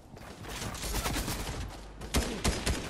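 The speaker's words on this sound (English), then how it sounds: "There's a guy firing somewhere in that room." Rapid gunfire from another player in Fortnite, a burst of quick cracking shots in a busy, rumbling battle mix, with a few sharper reports toward the end.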